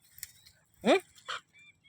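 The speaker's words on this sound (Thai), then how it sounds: "จะเห่าทำไมเนี่ยตีกันสิ" A dog gives two short, loud barks close by, one then another a moment later, with faint background murmur and a soft later call.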